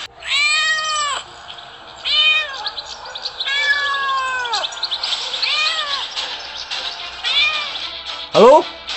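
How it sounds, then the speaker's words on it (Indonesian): A cat stuck up in a tree meows over and over, giving several drawn-out, wavering cries with short gaps between them, then a brief rising squeal at the end. "tolong selamatkan kucing yang terjebak di pohon"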